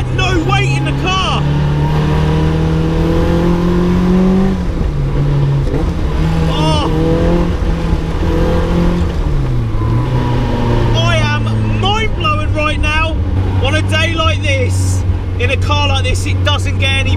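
A Caterham 420R sports car engine revs and accelerates through the gears on a British B road, loud and close, while someone talks over it throughout.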